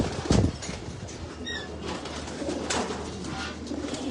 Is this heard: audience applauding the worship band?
no